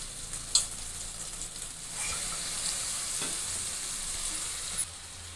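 Egg noodles sizzle and crackle in a hot pan with onions, a steady frying hiss broken by a couple of sharp stirring clanks.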